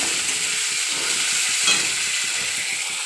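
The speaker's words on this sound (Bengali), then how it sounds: "জিরে, দিয়ে দিচ্ছি পেঁয়াজ কুচি, সব কিছু দিয়ে দিচ্ছি" Chopped onion and cumin sizzling in hot oil for an egg curry, a continuous soft frying hiss with faint stirring scrapes throughout, no speech.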